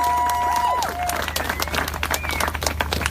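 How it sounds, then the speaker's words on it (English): A crowd at a Toughest Mudder Europe awards ceremony breaks into applause, with dense clapping and a few whistles continuing steadily throughout. "Let's give her a massive round of applause."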